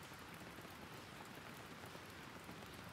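Steady rain patters softly on surfaces and skylights outside a soap shop, an even, unbroken hiss with no voices.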